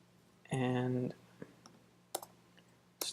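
A short tonal hum, then a handful of sparse, crisp keyboard clicks spaced out irregularly, close and fairly quiet.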